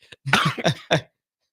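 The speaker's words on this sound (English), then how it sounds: "Sorry, got a little bit of a cough there as well." A short burst of coughing, three or four quick harsh coughs close to the microphone, then silence.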